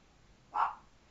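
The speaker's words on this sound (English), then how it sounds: "Candy, stop barking!" A single short dog bark rings out once, fairly close and moderately loud, against a quiet indoor background with no talk.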